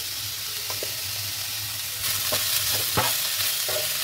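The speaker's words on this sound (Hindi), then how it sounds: "प्याज थोड़ा भुन गया है, अब इसमें जो बीज निकाले थे वो डालेंगे।" Chopped onion and bitter gourd seeds fry in a pan with a steady, close sizzle and hiss. A few soft stirring scrapes come through, and the frying grows slightly louder midway, with no talking.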